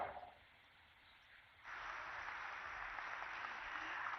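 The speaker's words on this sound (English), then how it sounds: "I think we can put our hands together for louder applause there" Applause from an audience at an inauguration ceremony for an engine maintenance facility, faint at first, then swelling into a broad, steady wash of clapping that holds to the end.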